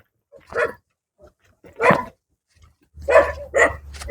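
Dogs barking at a guapple farm, a few separate sharp barks and yips spaced apart, moderately close, with a low hum entering near the end.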